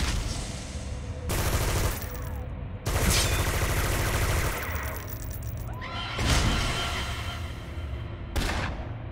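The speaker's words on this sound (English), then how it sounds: "Let's go ahead and shoot him." Rapid automatic gunfire from an Arachnos Soldier in City of Villains rattles in several loud bursts, each a second or more long, separated by brief pauses, close and dense with no speech over it.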